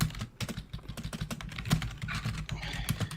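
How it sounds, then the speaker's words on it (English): Fast, uneven typing on a computer keyboard, a dense run of sharp clicks and key taps, close and fairly quiet, with no talk over it. "I was typing in there."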